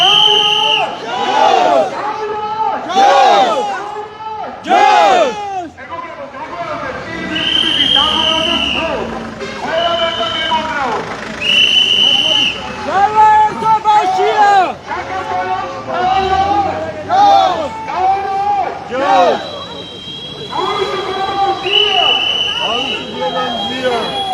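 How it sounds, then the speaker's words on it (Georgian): A crowd at a pro-European march in Batumi chants freedom slogans in loud, rhythmic unison, the shouted phrases repeating in waves with brief pauses between. "გესმით შეძახილებით თავისუფლება მზიას, თავისუფლება ზვიას, თავისუფლება პოლიტიკურ პარტნიორებს."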